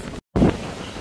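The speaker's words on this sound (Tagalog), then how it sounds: "Tignan nyo ang dagat kung paano magwala. Ang lalaki ng alon mga ka-friends." Strong wind roars into the microphone over large crashing ocean waves, with a brief dropout before a heavy rumbling gust.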